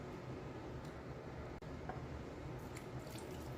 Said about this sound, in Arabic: انا غادا نزيد الماء